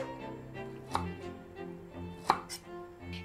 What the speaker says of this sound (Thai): การที่เราหั่นแบบหมุนไปเรื่อยๆ เราก็จะได้ชิ้นบวบเป็นก้อนแบบนี้ค่ะ